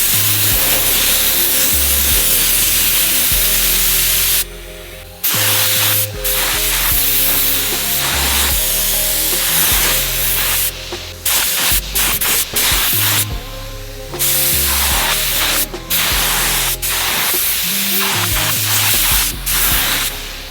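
Yellow paint sprayed in coats onto Brembo brake calipers, a loud continuous hissing spray broken by a few brief pauses, over a steady low tonal drone, with no one talking.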